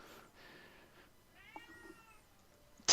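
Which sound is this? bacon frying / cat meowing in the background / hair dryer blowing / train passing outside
cat meowing in the background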